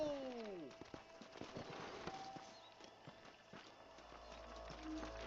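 Hooves clip-clop from horses in Red Dead Redemption, repeated scattered strikes at moderate volume as the animals slow and settle, mixed with game ambience and a few faint incidental noises.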